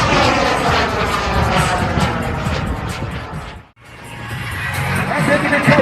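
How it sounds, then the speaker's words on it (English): A mini jet, flown by Tom Larkin, rolls low at an air show at Fort Worth. A loud, continuous engine roar carries over crowd noise and a commentator's voice, dips briefly, then builds again as the jet passes. "Rolls the mini jet down low"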